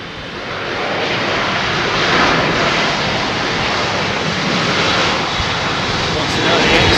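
A steady, broadband roar of an airliner landing and braking on a Heathrow runway, loud and continuous throughout with some wind buffeting.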